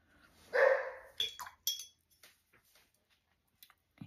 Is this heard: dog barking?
yes